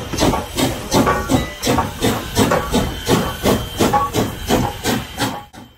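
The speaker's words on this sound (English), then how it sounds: "Oh, there's a train." A steam locomotive chuffs past in loud, regular hissing bursts with a rumbling undertone, then cuts off.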